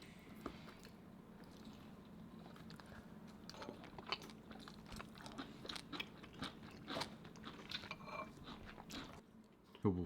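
Someone eats spicy Korean braised pork ribs, with close, quiet chewing and soft crunching bites repeating steadily over a low background, and faint voices nearby.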